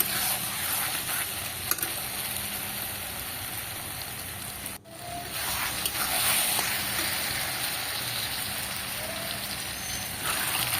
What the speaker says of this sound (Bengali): আর সেখানে আমি মটর দিয়ে দিচ্ছি